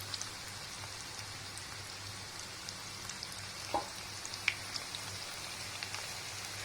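Cauliflower florets frying in a pan over a low to medium flame for crispy Gobi Manchurian: a steady, even sizzle like light rain, with a few faint pops and crackles breaking through near the middle.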